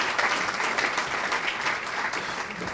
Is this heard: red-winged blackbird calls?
no